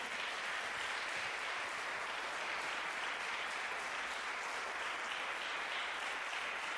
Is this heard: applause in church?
yes